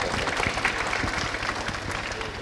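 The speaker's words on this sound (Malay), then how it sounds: "Kita bagi tepukan untuk Ustaz Ja, tuan-tuan dan puan-puan." Studio audience applause on a Malay-language celebrity talk show, moderate, dense clapping that carries evenly across the brief moment.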